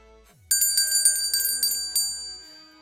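A corpse herder's summoning bell rings in the Xiangxi mountains, six or seven bright metallic strikes in an uneven rhythm whose long shimmering overtones hang and slowly fade, close and fairly loud, with no talk.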